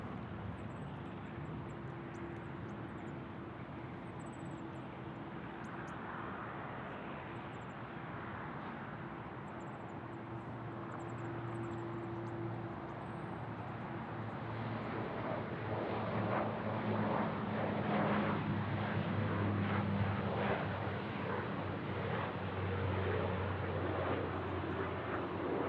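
A Dash 8 at Sydney Airport gives a steady, distant engine drone that grows gradually louder and rougher in the second half, with no voices.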